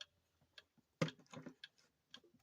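A newly installed clock with its chime turned off, its mechanism giving faint, irregular ticks and clicks, a few slightly louder clunks among them, heard alone in a quiet room.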